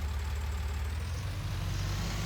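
Tractor engine in Farming Simulator 19 idling with a steady low rumble, a constant mid-to-low drone that holds at an even moderate level without any talk.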